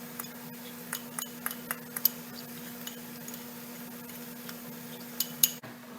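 Spoon or utensil scraping and clinking in a bowl while stuffed eggplant filling is mixed, with sharp intermittent taps over a faint steady hum, fairly quiet and close.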